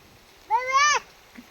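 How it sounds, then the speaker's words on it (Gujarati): A single short, rising meow from a nearby cat, clear against a quiet background, followed by a faint brief sound. "કેવી બે રમે જો મીંદડીઓ"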